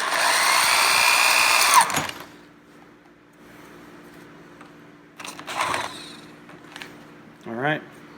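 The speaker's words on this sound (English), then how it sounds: "I'm going to start drilling." A power drill whines loudly for about two seconds and then stops, drilling a hole in Honda CB-series motorcycle handlebars. Quieter mechanical noises and a brief rising whir follow.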